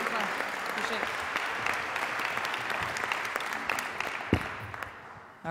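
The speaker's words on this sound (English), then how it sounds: "How about a nice round of applause for the head coach of our women's basketball team, Susan Robinson Fruchtl." An audience at a development center announcement applauds the women's basketball head coach with a dense wash of clapping, a few louder claps and faint voices mixed in before it cuts off abruptly.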